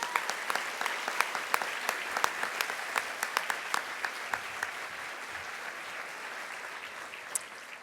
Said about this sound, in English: Let's give a round of applause for all of our generous sponsors.